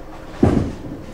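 Bowling ball striking pins in a league game, a single short dull clunk with a brief rattle that fades quickly.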